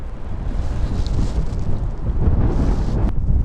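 Strong wind at the Mount Victoria summit, a loud, constant low roar buffeting the microphone in uneven gusts, with no voices.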